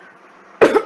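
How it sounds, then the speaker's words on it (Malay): A single close cough bursts out abruptly after a stretch of quiet room tone, loud and brief. "Ada batuk pula."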